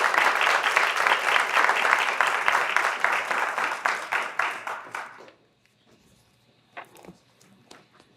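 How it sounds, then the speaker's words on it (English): Hearty audience applause at a college announcement event for a workforce development and trades center, loud and dense for about five seconds, then fading quickly to near silence with a few stray sounds. "Give that a hand clap"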